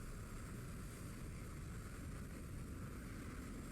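Su-25K jet engine roaring in War Thunder, a steady, loud, continuous drone that lasts the whole stretch with no talk over it.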